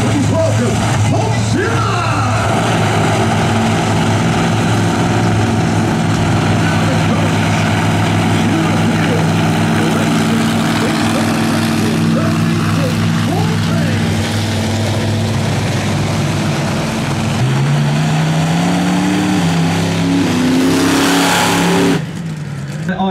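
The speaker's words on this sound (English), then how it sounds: "truck drivers, will you please start your engines?" Monster truck engines at Santa Pod Raceway in the UK start up and rev, a loud, deep, sustained roar with rising and falling pitch that swells to a final high rev before cutting off. An announcer's voice may be faintly present underneath.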